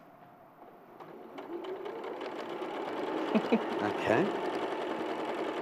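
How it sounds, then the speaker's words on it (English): A sewing machine chain piecing quilt columns runs in quick stitching bursts that grow louder and denser, with a brief spoken word over it. "I'm sewing it in columns to make rows."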